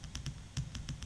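Quick bursts of keystrokes on a computer keyboard while entering text into a spreadsheet cell, about six soft, evenly spaced taps over a second, faint with no voice.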